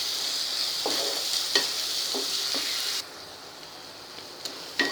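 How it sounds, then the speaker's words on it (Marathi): Onion frying and being stirred in hot oil in a pan for a radish vegetable dish, a steady soft sizzle with a few sharper clinks of the spoon; the sizzle drops quieter partway through, and no one speaks. "फक्त 3च मिनटं लागले कांदा परतायला"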